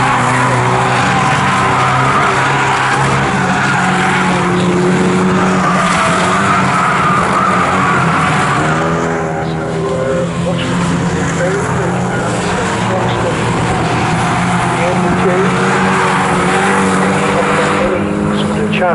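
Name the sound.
race cars driving on Snetterton circuit, Carbon8 Coupe Cup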